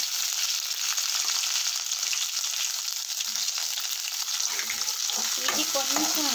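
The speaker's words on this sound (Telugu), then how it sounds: "7 ఎండుమిర్చి కట్ చేసుకున్నానండి. అది ఇప్పుడు బాండీలో వేసేసుకున్నాము." Seven cut dried red chillies frying in a pan, giving a loud, dense, continuous sizzle with faint crackles and stirring scrapes toward the end.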